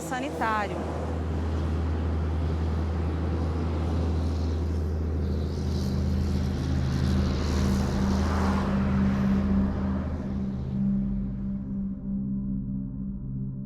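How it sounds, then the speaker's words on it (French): A low-flying crop-duster airplane spraying yellow product over a soybean field makes a steady propeller drone and rumble throughout, with people talking over it. "Soudain, un avion passe en rase-motte, épandant un produit jaune sur le champ de soja"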